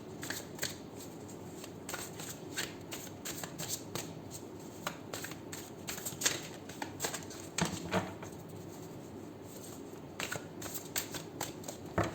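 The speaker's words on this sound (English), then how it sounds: "We'll first shuffle the Light Seers Tarot, 7 shuffles" Steady riffling and flicking of tarot cards being shuffled, repeated crisp bursts over about twelve seconds, close and fairly quiet with no talking.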